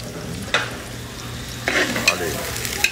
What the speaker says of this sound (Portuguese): vou dar uma fritadinha.